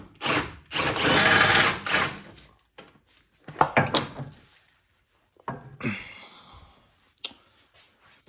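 Power tool undoing the three top bolts on a BMW 328i shock mount during a suspension refresh: a loud sustained whir for about a second and a half, then short bursts and clanks with pauses between.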